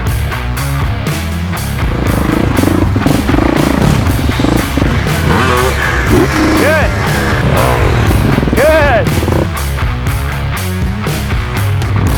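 A dirt motorcycle ridden during a riding-skills bike camp, its engine revving and throbbing loud and close throughout while a coach's voice talks over it.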